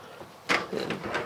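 A pull-out drawer in the living area of a 2019 DRV Mobile Suites 36 RSSB3 luxury fifth wheel RV slides open with a short scrape and a few light clicks and knocks, close by in a quiet room.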